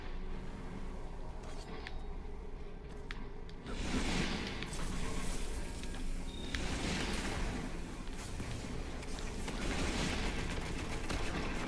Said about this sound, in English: It's a shotgun, bro.